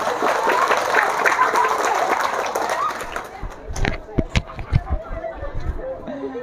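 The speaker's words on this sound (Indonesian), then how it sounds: "Tepuk tangan luar biasa" A crowd at a religious sermon on the Prophet's life claps loudly for a few seconds, then the applause thins into scattered individual claps and thumps with murmuring voices.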